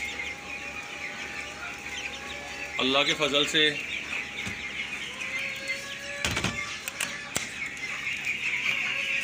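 Hens clucking amid faint chick chirps, with a burst of louder clucking partway through and someone speaking briefly over the farmyard sounds.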